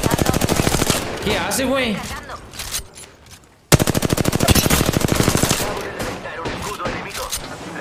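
Rapid automatic gunfire in a video game battle royale match, loud sustained bursts that break off and then resume, with a player talking over the shots.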